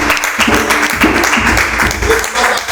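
A church congregation applauds to acclaim the Lord, with dense, loud, sustained clapping filling the room from start to finish and voices mixed in.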